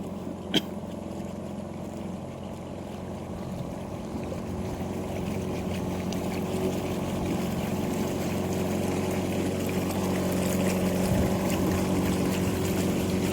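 A tourist boat's motor drones steadily on a mangrove river, a continuous close rumble with water wash that builds slightly louder toward the end, with no voices.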